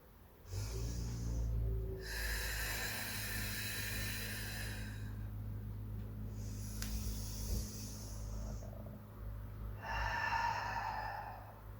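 Breathing during a Pilates workout: several close, faint, airy breaths, inhalations and exhalations in separate bursts of hissing air with quiet gaps between.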